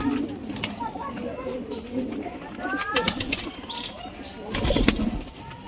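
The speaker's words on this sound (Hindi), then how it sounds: "आपके सामने कबूतर है, एक एक लाजवाब कबूतर है भाई" A flock of pigeons kept for sale in Firozabad coo steadily and close by, with bursts of wing flapping and faint chirps, while someone talks over them.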